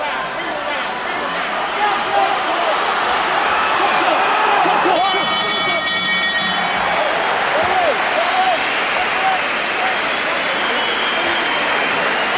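A large boxing arena crowd roars and cheers during a cruiserweight title fight, shouting a fighter's name in a sustained, loud wash of voices with whistles rising briefly in the middle, while a commentator talks over it.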